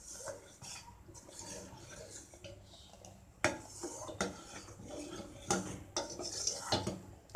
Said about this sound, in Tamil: நல்லா கெட்டியாகிற ஸ்டேஜில் வந்து பார்த்திங்கன்னா கொஞ்சம் அப்படியே கிண்டி விட்டுட்டே இருக்கணும்